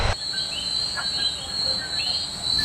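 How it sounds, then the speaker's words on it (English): Steady, high-pitched chirping of crickets and insects fills the night air in a continuous, shimmering chorus with no voices, on the grounds of a rainforest resort hotel at Dorado Beach, Puerto Rico. "the sound of the crickets and insects on the property"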